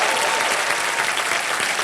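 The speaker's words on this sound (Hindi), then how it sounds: "जोरदार तालियां उस बैंड के लिए" Loud, dense studio audience clapping for a band on a Hindi TV game show, a continuous wash of hands sustained evenly throughout.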